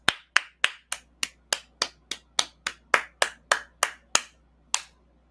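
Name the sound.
clapping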